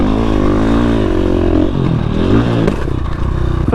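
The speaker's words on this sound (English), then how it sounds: "I don't think I've jumped the hill on the supermoto wheels yet." KTM 500 EXC dirt bike fitted with heavier supermoto wheels roars loudly and close as it takes off over a hill, its engine pitch rising and falling with revving, then a clattering scrape as it lands.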